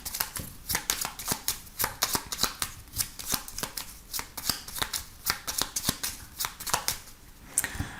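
A 32-card deck is shuffled for a card reading, producing a rapid string of crisp riffling and flicking bursts in an irregular rhythm, close and clear with no voices.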